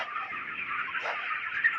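A dense flock of 26-day-old broiler chickens on a poultry farm keeps up a steady, continuous clucking chatter at moderate loudness, with no talk.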